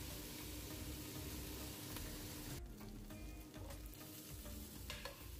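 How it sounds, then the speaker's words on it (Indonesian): Food frying in a pan for a Thai dish, stirred with a spatula, gives a faint continuous sizzle with scraping stirs and occasional light taps. "Kita aduk lagi sampai merata."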